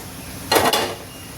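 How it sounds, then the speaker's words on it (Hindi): A single heavy metal clunk and brief rattle as a pressure cooker is set down on a lit gas stove, then quiet. "इसमें रख देंगे कुकर"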